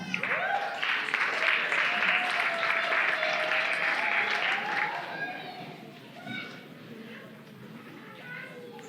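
Wedding reception guests applaud in a dense, steady wash of clapping that fades after about five seconds, with a voice and some chatter rising over the thinning claps.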